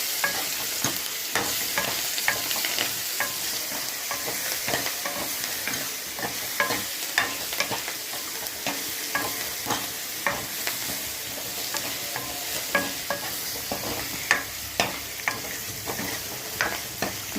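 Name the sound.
mashed tomatoes poured into sautéed onions, frying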